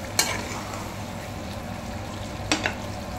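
Chicken kasha frying in a pan, a steady close sizzle with two sharp spatula scrapes as it is stirred, no talk.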